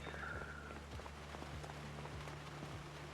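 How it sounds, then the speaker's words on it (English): Rain in the video game Project Zomboid falls as a soft, continuous patter of drops on surfaces, quiet and distant, with faint low thuds underneath and no talking. "Looks like we're gonna have another rainy day coming in here."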